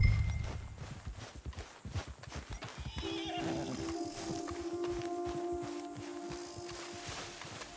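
A horse in Red Dead Redemption 2 whinnies and snorts while hooves clop along steadily, with a faint voice in the background.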